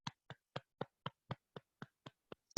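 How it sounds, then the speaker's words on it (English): Sparse, evenly spaced single claps or snaps over an online Toastmasters meeting connection, about ten dry, isolated hits in quick succession, close and otherwise silent, ending with a brief louder burst. "Please welcome him with a huge round of digital applause."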